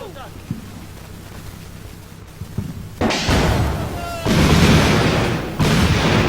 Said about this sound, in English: Did he just fire a Schreck at me?